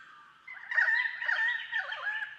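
A currawong, an Australian bird, sings a loud, clear warbling phrase close by, rising and wavering tones over a quiet background.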